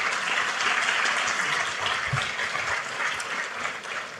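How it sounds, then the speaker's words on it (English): A large audience gives a round of applause at a National Archives event marking 250 years of the Declaration of Independence, a dense, continuous wash of clapping throughout. "Give them a round of applause"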